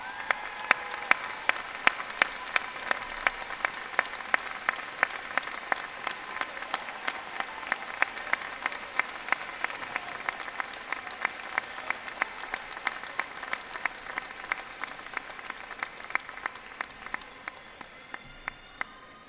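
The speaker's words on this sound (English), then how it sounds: "appreciation by a round of applause." A large audience at the IUP Spring 2014 commencement ceremony gives a steady round of applause honoring graduates' families and sponsors, sustained and dense for the whole stretch before thinning and fading out at the end.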